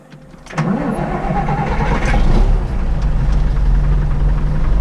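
Large tractor engine starting, a short cranking burst that catches into a loud, steady diesel rumble at idle, close and without talk.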